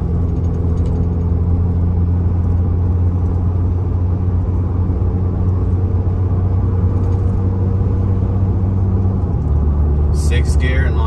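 A vehicle engine cruises at low RPM at 55 mph in sixth gear, a steady, loud, droning rumble and whir that holds evenly throughout, with a brief higher sound near the end.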